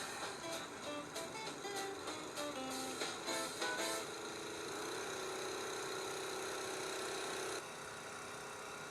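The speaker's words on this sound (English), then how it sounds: "Start up the little engine." A small engine driving a tow truck's mechanical air compressor starts up, first sputtering with uneven pulses, then settling into a steady, droning idle that cuts off near the end.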